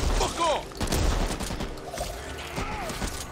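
Gunfire in the Back 4 Blood video game, a burst of rapid shots at the start and scattered reports after, with game effects and voices around.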